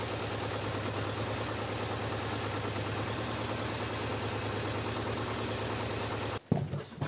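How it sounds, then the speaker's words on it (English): A T-25 Vladimirec tractor diesel engine idles with a steady, loud, rhythmic chugging, then cuts off abruptly near the end, leaving a few clunks. "So we're gonna start the tractor and check if there's oil leak there"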